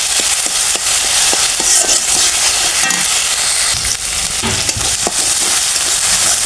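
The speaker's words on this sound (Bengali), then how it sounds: "এগুলো ভালোভাবে তেলের মধ্যে ভেজে নেব।" A ground green chilli spice paste fries in oil after browned onions, giving a loud, steady close sizzle with repeated spoon taps and stirring scrapes throughout.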